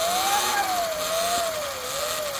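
A KANIWABA E Ride Pro electric bike kit motor spins the wheel with a steady, close electric whine that wavers gently in pitch, alone and fairly loud throughout.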